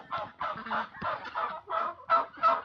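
Poultry near a chicken coop honk in a rapid series of about eight loud, nasal, goose-like calls in quick succession, close by and with no talk over them.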